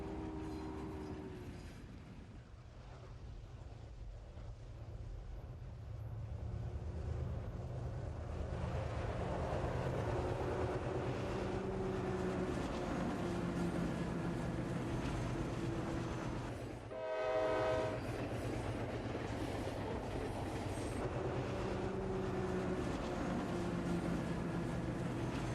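Model diesel trains rumble steadily along the tracks under a large truss bridge with a continuous clattering drone, and a horn sounds briefly partway through.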